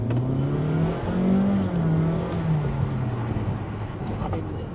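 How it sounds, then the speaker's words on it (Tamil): A 2024 Honda HR-V with a 1.6 litre engine accelerates, a steady engine drone rising and falling slightly in pitch, heard from inside the cabin. "ஆக்சிலேட் பண்ணி பார்ப்போம்"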